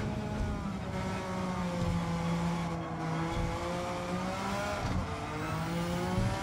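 Suzuki Escudo in the Gran Turismo 7 video game braking at speed for a corner, engine pitch sweeping down across repeated gear changes, steady and moderately loud with no voices.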